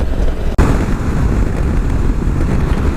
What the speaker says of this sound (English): It's really, really windy.